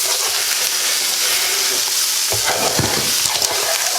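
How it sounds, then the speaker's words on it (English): A spoon stirs salt and pepper into Guinness stew in a pot, the steady sizzle and hiss of cooking up close, with scraping stirs near the end and no talk. "get this all stirred in."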